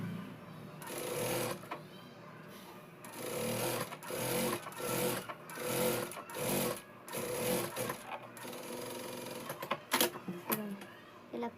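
A sewing machine stitches a Punjabi dress in short, rapid whirring bursts separated by pauses, close up, with someone talking between runs.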